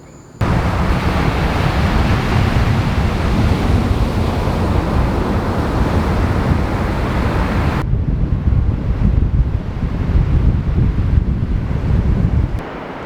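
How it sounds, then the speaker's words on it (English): Steady sea breeze blowing hard across a beach at a park, roaring wind buffeting close against the microphone with a wash of surf beneath, continuous and loud, no talk. "all you have to do is come down here to the beach, and there's a breeze"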